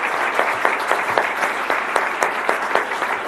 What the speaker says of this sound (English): Lindsay, one more round of applause for them who make all this possible